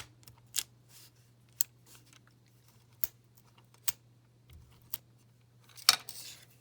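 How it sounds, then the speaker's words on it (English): A pick tool peels paper backings off card pieces for an accordion greeting card, giving sharp, sparse clicks and snaps spaced about a second apart over a low steady hum. "Take your pick tool to remove the paper backings."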